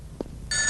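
A telephone bell starts ringing partway through after a brief soft knock, a bright continuous ring heard close and clear with no voices.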